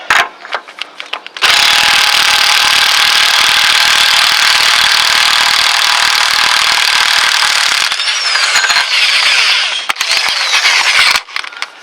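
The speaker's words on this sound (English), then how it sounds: "I'm going to go ahead and use my my impact tool here" An impact wrench hammers off a lower ball joint nut on a Chevy S-10, one long loud continuous burst lasting several seconds up close, preceded by rattling handling noise and followed by clinks of metal.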